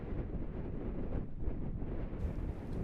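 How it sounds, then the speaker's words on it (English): Strong wind gusting across an open outdoor field during a whitetail deer hunt in Illinois, a steady rough buffeting rumble against the microphone throughout, loud and continuous with no voices. "It is so windy."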